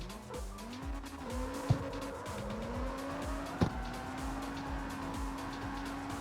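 A car drifts in the CarX Street video game on PS5, its engine droning with shifting pitch while tires squeal, with two sharp clicks along the way.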